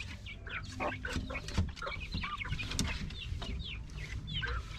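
Several chickens cluck and chatter continuously, a busy overlapping flock close by with no talking.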